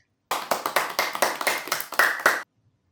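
Hands clap in a steady run of about ten sharp, close claps lasting two seconds, then stop into silence.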